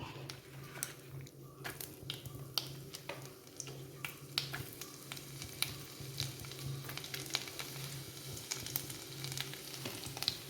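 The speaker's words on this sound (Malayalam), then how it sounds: "കടുക് പൊട്ടി നമുക്ക് ഇഞ്ചിയും വെളുത്തുള്ളിയും ഇട്ട് കൊടുക്കാം." Ginger and garlic fry in hot butter with mustard seeds that have already popped. The sizzle is faint and continuous, speckled with small crackles.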